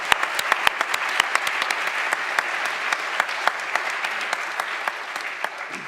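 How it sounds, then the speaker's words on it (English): A small audience at the British Exploring Society celebration evening claps for six nominees, individual sharp claps clearly distinct in a steady patter that tapers slightly at the end. "If we can just have a round of applause for those 6"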